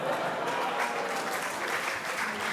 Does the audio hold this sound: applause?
yes